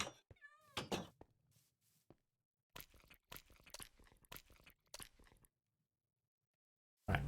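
A Minecraft cat meows in a short rising cry near the start, followed by bursts of crunching and clicking game sounds separated by silent gaps, with a final burst at the end.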